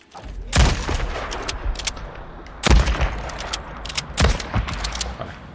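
Gunshots in the video game Days Gone, three sharp, loud reports spaced a couple of seconds apart, each with a short echoing tail over a low ambient background.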